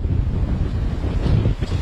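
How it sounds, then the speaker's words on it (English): Hurricane Ian's strong wind buffets and roars across Fort Myers Beach, a loud continuous rumble of gusts battering the microphone, with surf noise mixed in and no voices. "It is very, very windy."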